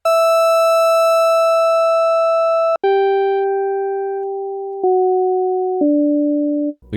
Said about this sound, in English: And then I want to make a kind of sine pluck.